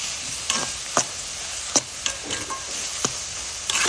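Ingredients for a non-veg sadya-style dish frying in a pan after salt is added, a steady close sizzle punctuated by sharp, regular clicks and scrapes of a spoon stirring against the pan.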